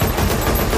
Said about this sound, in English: What kind of shooting is this?